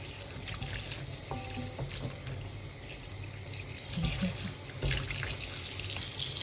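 Water runs steadily from a tap with splashing and sloshing as tapioca is rinsed by hand, fairly quiet and close.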